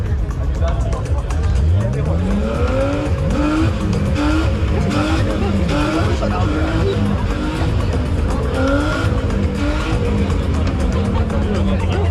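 Three BMW cars roll into a crowded car meet, engines revving and rising in pitch one after another, with tires squealing and a busy crowd babbling throughout; loud and continuous.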